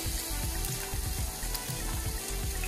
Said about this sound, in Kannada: ಸ್ವಲ್ಪ ಇದನ್ನು ಫ್ರೈ ಮಾಡ್ಕೊಳ್ಳೋಣ.